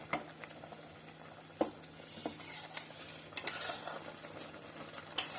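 Soaked rice goes into boiling water in a pot for a vegetable pulao, followed by close stirring and scraping with a utensil over a constant bubbling, hissing boil.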